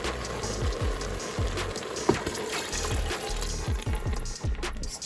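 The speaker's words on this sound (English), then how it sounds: "we're gonna add 6 cups of vegetable broth" Vegetable broth glugs and splashes steadily into an Instant Pot, a continuous close pour with rhythmic gurgling throughout.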